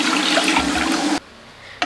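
Two cups of milk pour into a bowl for a caramel bread pudding, a close, steady liquid splash lasting about a second before cutting off to near silence.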